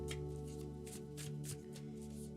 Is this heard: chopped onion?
no